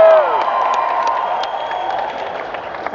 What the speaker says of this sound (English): you can tell this crowd is excited to see you